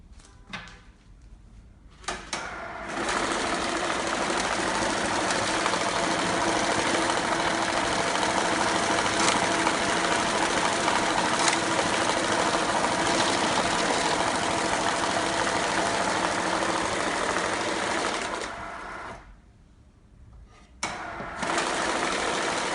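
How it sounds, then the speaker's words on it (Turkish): An I-Hunter IH-110 double-pocket banknote counting machine runs with a steady, loud mechanical whir for about sixteen seconds. It starts and stops abruptly, with brief handling clatter at each end and no voices. "Aynı zamanda para sayma makinemizde aynı anda kaç para birimi yüklüyse hepsini saydırabilmekteyiz."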